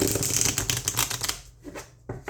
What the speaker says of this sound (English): this cardstock shuffles so well, and always has